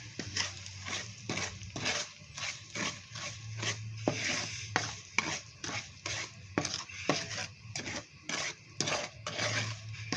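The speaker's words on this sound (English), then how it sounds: "Keep on stirring." A utensil stirs honey garlic butter sauce in a pan over very low heat, giving a repeated scraping and clinking rhythm close up. A soft, faint sizzle runs underneath the strokes.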